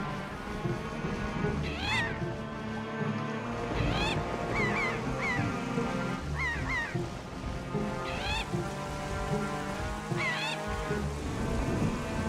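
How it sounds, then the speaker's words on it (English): Repeated honking bird calls in The Legend of Zelda: The Wind Waker sound every couple of seconds over a steady droning background of ambient game music and noise. "I hate the noise these birds make."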